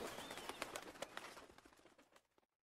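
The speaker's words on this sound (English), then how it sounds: "Birds in the rainforest canopy took to the sky, eager to be away from the violence that was to come." Birds in a rainforest canopy, in an Age of Empires 2 cutscene, flutter and call briefly as they take flight, close and fairly loud, fading out within a few seconds.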